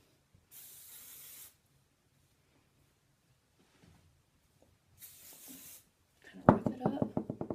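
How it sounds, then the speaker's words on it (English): Two short hissing bursts of flexible-hold hairspray sprayed onto hair, a few seconds apart, followed by a person speaking. "So what I'll do, use my hairspray again."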